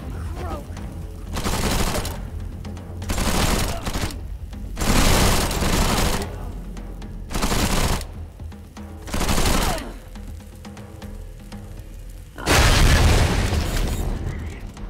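Gunfire and heavy impacts in the video game Wasteland 3, coming in loud, repeated bursts of several seconds each separated by short quieter gaps, with a final strong boom near the end.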